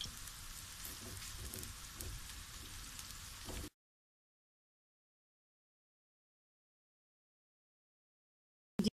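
Onions fry in hot oil in a kadai, giving a faint, steady crackling sizzle for a few seconds before it cuts to silence, with no talking.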